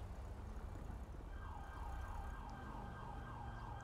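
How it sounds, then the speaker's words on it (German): A police car siren in a video game wails steadily from mid-distance, its rising and falling tone cycling several times over a constant low engine and street rumble, with no talking. "Polizeiauto."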